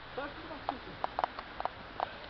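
A horse pulling a sled trots with a steady run of sharp hoof clip-clops, about a dozen hits at an even pace, while voices talk faintly underneath.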